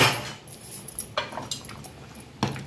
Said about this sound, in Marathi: झाकण काढून दाखवते मी तुम्हाला